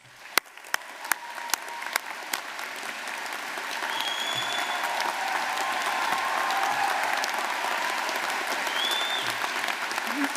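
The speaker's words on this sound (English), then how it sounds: "Please give them a huge round of applause." Graduation ceremony crowd at Camberwell College of Arts breaks into applause: a few sharp isolated claps at first, then swelling into sustained, even clapping from a large audience in a hall, with faint cheers on top.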